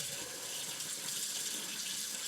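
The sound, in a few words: hot water running from kitchen sink tap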